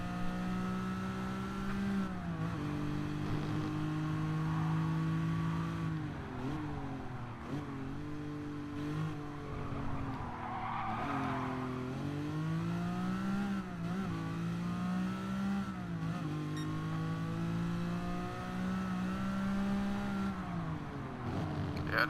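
Simulated car engine from Gran Turismo, a loose but grippy car driven around a track, droning and revving steadily throughout with rising and falling pitch as it shifts gears, loud and continuous without talk.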